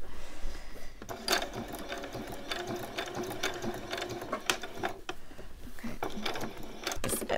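A sewing machine stitches a t-shirt with a fast, rattling mechanical chatter in short uneven runs and stops, close and moderately loud, no voices.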